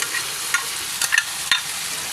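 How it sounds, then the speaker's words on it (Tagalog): A utensil stirs leftover roasted pork, skin and meat together, in a pan of Filipino lechon paksiw, giving a steady sizzling hiss with a few scraping clinks spaced through the mix. "bigyan natin siya ng isang magandang halo"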